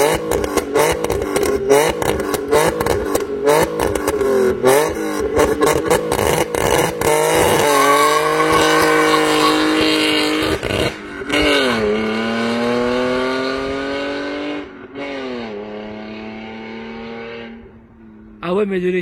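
BMW E46 Rocket Bunny engine revving outside, loud and close, with rapid aggressive blips and crackles followed by longer rising and falling revs, with a voice partly audible over it.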